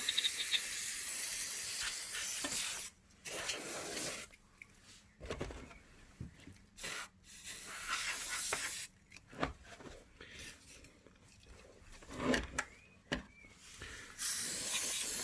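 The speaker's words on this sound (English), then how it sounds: "Remember to keep this canister upright, otherwise some of the liquid starts to spray it" Compressed air canister hissing in long, loud spray bursts into the dusty vents of a noisy PlayStation 4, broken by short pauses.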